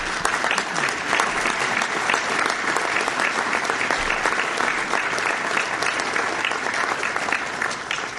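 Audience applause at a Board of Trade business luncheon in Pickering, steady dense clapping from a sizable crowd that holds at an even level throughout.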